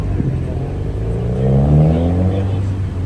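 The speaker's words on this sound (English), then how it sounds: "Intersection in the middle means all the cars have to stop." Busy road traffic at an intersection near Chevron Island, with a loud nearby car engine droning and rising as it accelerates past.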